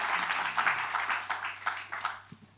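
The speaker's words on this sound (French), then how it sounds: "Faut applaudir." A small audience at a talk on film music gives faint, scattered applause, a few uneven claps over a low background hum.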